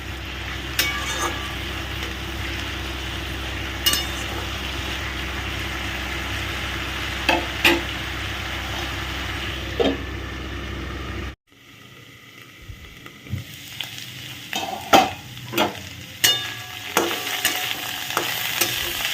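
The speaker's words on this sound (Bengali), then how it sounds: "মাঝে মাঝে ঢাকনাটা খুলে খুলে একটু নাড়িয়ে দিতে হবে" A potato dish cooks in a covered pan and is stirred now and then. A steady sizzle with scattered clinks and scrapes gives way after a sudden drop to quieter cooking marked by sharp, repeated stirring knocks, close by with no voices.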